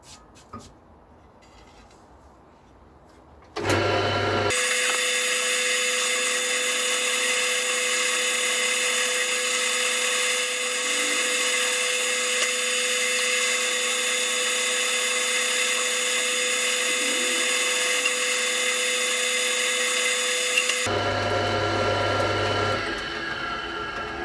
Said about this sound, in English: So this is a 4mm drill, which will be fine. So let's just get drilling that.